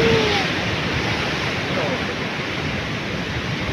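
Big waves of the South China Sea surge in a steady, loud roar of surf that fills the whole stretch, mixed with wind rumble on the microphone and no pauses.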